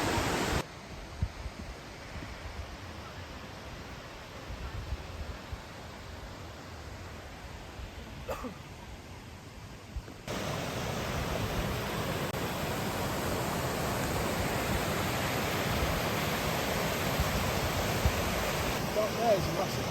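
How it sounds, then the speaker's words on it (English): Waterfall near Ingleton pouring as a steady broadband roar, quieter at first and then louder and fuller for the second half, with no voices over it. "Yeah, because there is this waterfall."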